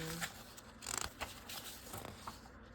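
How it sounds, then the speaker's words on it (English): Tarot cards being shuffled by hand during a card reading: soft riffling and patter in short bursts, close and fairly quiet, with no talking over it. "we're just gonna shuffle some more of these"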